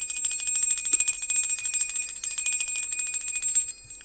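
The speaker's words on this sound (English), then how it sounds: "can you let me know how loud that bell ring is?" A small bell rings steadily and close by in a repeated rapid shimmer with sustained high tones, heard alone and used as a cleansing ritual before a live tarot reading.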